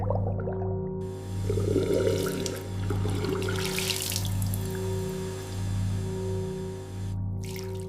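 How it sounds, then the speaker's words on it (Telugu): Steady running water from a tap, with a constant hum underneath and some splashing, continuing throughout before briefly cutting out near the end. "ట్యాబ్ నుండి నీళ్లు కారుతున్నాయి"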